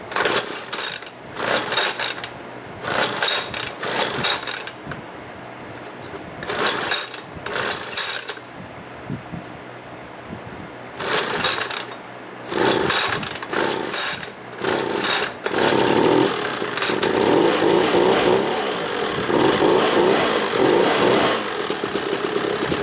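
A Homelite ZR leaf blower being pull-started: a run of loud, ratcheting cord pulls in quick bursts, then the small two-stroke engine catches and drones steadily up close.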